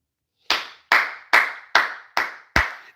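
Six sharp hand claps spaced about half a second apart, loud and close with nothing else around them.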